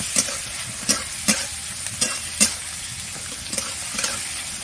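Chopped onions fry in a hot pan for an egg and pumpkin flower dish, a steady sizzle broken by repeated sharp scrapes and clinks of a spatula stirring, close and fairly loud.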